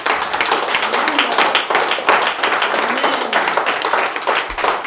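A church congregation breaks into sustained clapping and applause in praise of the Lord, dense rapid hand claps filling the room, loud and close with scattered cheers mixed in.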